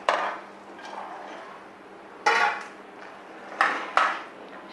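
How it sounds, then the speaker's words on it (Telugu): Peanuts are tipped into hot jaggery syrup in a pan with the stove off, making several sharp clattering bursts against the metal, separated by quieter gaps. "స్టవ్ ఆపేసి వేరుశనగుళ్ళన్నీ అందులో వేసేసుకోవాలి."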